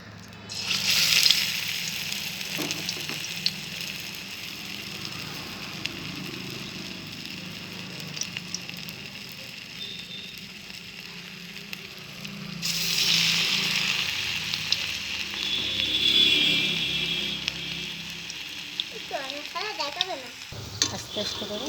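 Fritters (bora) frying in hot oil in a wok give a steady, close sizzle, with a louder surge of bubbling partway through and occasional stirring clatter.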